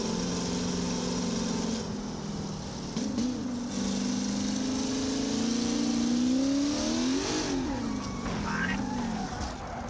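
A C5 Corvette Z06 engine in the BeamNG Drive driving game, with a six-speed gearbox, drones steadily and rises through revs, then climbs and falls again under a continuous hum of game engine noise. Someone talks now and then.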